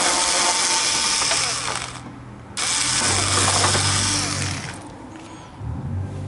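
A screw is backed out of the front fairing of a Citycom 300i scooter with a ratcheting tool, producing two long bursts of dense rapid clicking separated by a short pause, close and loud.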